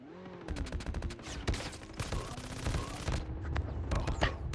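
Gunfire in the mobile shooter Call of Duty Mobile, Blackout mode: rapid bursts of automatic fire and sharp cracks, loud and dense, with people talking over it.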